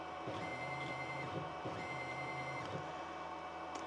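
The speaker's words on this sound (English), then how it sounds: "you'll hear the stepper motor driver run and you'll hear, you'll see the motor run." A DIY CNC plasma cutter's stepper motor and driver jog the X axis, giving a steady electronic whine with repeated short pulses of motor movement, fairly close and continuous, with no talking.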